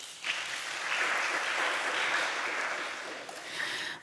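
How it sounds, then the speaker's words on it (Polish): A literary festival audience in Sopot applauds, producing dense, even clapping that swells quickly and holds steady for several seconds, close and fairly loud, with no voices over it. "Brawa również dla nich."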